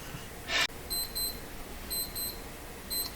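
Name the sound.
alarm clock ringing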